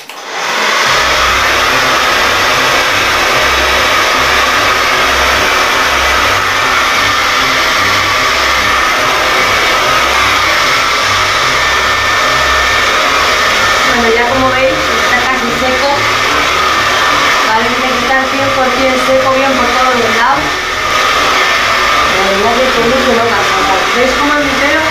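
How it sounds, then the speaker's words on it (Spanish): A hair dryer blows a loud, steady, close whir for the full length while drying curly hair after a Brazilian straightening treatment. A voice talks briefly over the motor partway through. "vamos a secar el pelo"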